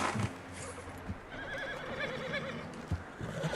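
A horse whinnies in the video game Red Dead Redemption 2 with a rising, wavering call over faint hoof clops and low background rumble, fairly quiet overall.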